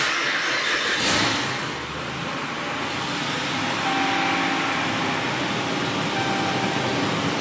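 A Dodge Ram 2500 truck engine runs steadily with a constant broadband hum, close and alone, with no misfire evident.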